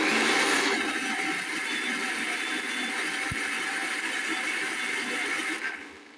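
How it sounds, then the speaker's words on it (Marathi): A mixer grinder whirs loudly and steadily as it grinds cooled roasted spices, a constant close motor roar that fades as it winds down at the end. "अशा प्रकारे ग्राइंड करून घेऊया."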